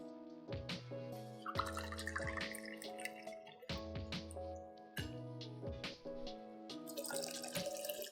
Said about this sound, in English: Next, I'm going to add a ½ ounce of lemon juice and 2 ounces of the Seedlip Herbal spirit.